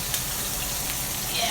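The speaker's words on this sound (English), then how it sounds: "I can smell the bacon, and I hear the sizzle" Bacon-wrapped armadillo eggs sizzle steadily just out of the oven, a dense continuous crackling hiss held close and fairly loud throughout.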